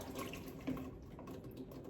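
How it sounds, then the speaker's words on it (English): Tap water runs steadily into a cooking pot, a soft, faint, continuous splashing trickle heard alone. "put about 1 inch of water in the bottom of the pot"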